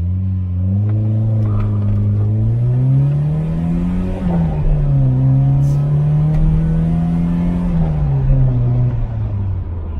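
Volkswagen Golf 1 GTI engine revving while driving, a loud close interior drone whose pitch rises and falls over several gear pulls, continuous and steady without talk.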